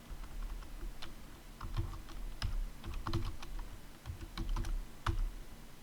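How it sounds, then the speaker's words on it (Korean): Computer keyboard keys are pressed, Ctrl held with the down arrow, while editing a table in a Korean word processor: faint, scattered close clicks in small irregular clusters. "컨트롤 버튼 누르시고 아래쪽 방향키 두 번을 누릅니다."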